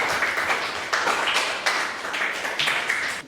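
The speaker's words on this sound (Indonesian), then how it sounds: "tepuk tangan untuk kelompok terakhir" Applause from a classroom of students for the final group, a burst of clapping that swells and fades in several waves, loud and close throughout.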